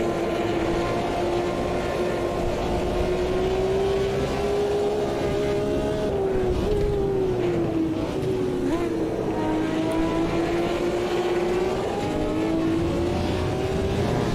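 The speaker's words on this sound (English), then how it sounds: "Full grid of these cars sound incredible" Group C endurance race car engines in the Automobilista 2 racing game, a sustained loud droning roar with slowly rising and falling pitch as revs shift, continuous throughout without pause.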